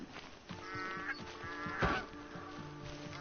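Canada geese honking in the Horizon Zero Dawn video game, a flurry of nasal, repeated honks layered over a faint musical tone, fairly quiet overall with one louder honk near the middle.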